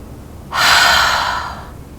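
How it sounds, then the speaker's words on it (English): A deep, exaggerated breath taken during a yoga session rushes in as a loud, close, airy inhale lasting over a second, then fades gradually, with no talk. "we're going to take 3 exaggerated breaths"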